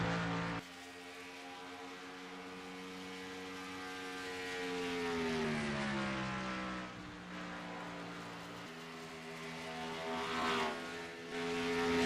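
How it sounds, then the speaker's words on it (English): Race car engines in a stock-car racing video game drone with sustained tonal whines that sweep up and down in pitch as they shift, fairly quiet and steady with no voices. "now I can hear the engines for myself"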